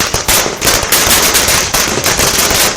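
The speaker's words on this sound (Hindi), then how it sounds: "आतिशबाजी का दौर शुरू हुआ तो शोर बंद ही नहीं हुआ।" Fireworks and firecrackers at a BJP election victory celebration crackle in loud, dense rapid bursts like machine-gun fire, popping continuously with short gaps throughout.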